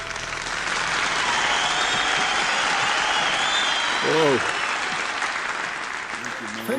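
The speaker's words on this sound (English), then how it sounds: "That was quite an applause." Loud audience applause after a bluegrass-style song performance, sustained clapping with a brief whistle or cheer partway through, and a voice speaking over the tail end.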